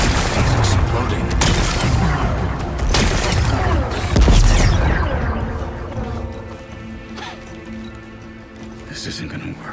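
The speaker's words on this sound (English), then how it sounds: "Gotta blast away some rocks." An explosion blasting away rocks in Horizon Forbidden West, a big booming burst with heavy rumbling debris among busy game sound, with voices talking over it before it fades to a quieter ambience.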